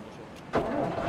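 A car engine in a roleplay video game cranks and catches about halfway through, leaving a steady, close engine hum after a brief quiet lead-in.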